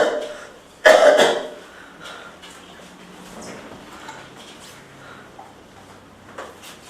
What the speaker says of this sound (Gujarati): ઉધરસ જેવું તો લાગે છે.